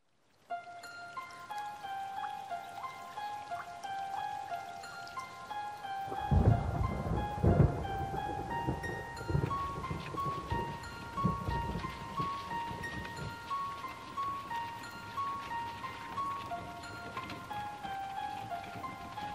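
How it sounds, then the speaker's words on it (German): Summer rain falls steadily at the Guédelon medieval castle construction site, with heavy rolling thunder rumbling through the middle, all beneath sustained musical tones. "Im Sommer kann es in Gédelon auch mal regnen."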